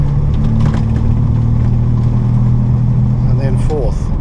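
An Austin A90 Westminster engine hums steadily then revs up near the end, with a person talking over the running motor.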